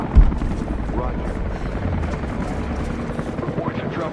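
A helicopter departs in Rise of the Tomb Raider, its rotor drone chopping steadily at mid distance beneath radio chatter and talk, opening with a brief low thump.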